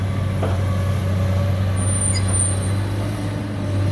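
A Komatsu PC200-8MO or Kobelco SK200 excavator working on earth-moving, its diesel engine giving a loud, steady low rumble with a constant drone and faint high whine, unbroken from start to finish.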